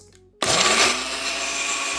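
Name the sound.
blender blending garlic, cumin and salt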